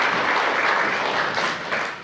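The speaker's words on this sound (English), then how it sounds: "Thank you very much for that smattering of applause." Light applause from a small magic show audience in Hancock, MD, a steady wash of clapping hands with no talk over it, moderately loud and close throughout.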